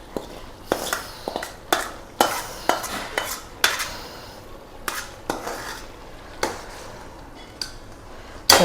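Sautéed onion and tomato stirred into a pot of yam curry, heard as a series of scraping and clinking spoon strokes against the pot at an uneven rhythm, with a faint sizzle underneath.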